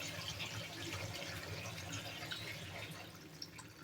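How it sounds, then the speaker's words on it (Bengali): Broth poured into a pot of fish curry with potatoes and vegetable stems, made with jatka fish in a village kitchen, giving a steady, low, continuous splashing pour that runs without a break. "এখানে এখন ঝোল দিয়ে দিব।"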